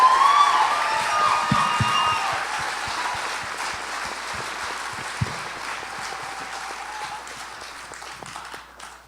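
Crowd at a celebration applauding and cheering for an athlete's family, loud clapping and whoops at first that gradually thin out into scattered claps and murmuring over about nine seconds.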